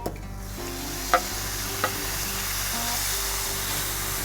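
Cajun chicken hits a hot Blackstone griddle, giving a steady, close sizzle with a couple of sharp metallic clinks early on.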